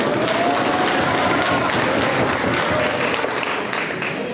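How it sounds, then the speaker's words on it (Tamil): Students applaud during a Tamil literature debate event at Arul Anandar College, a continuous close crackle of many hands clapping at an even level throughout. "ஆனா இந்த கல்லூரியில மட்டும்தான் உங்களுக்கு கைதட்டுறாங்க."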